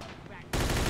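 Enemy gunfire in the video game Mafia II: a sudden loud burst of rapid shots erupts halfway through and continues dense to the end.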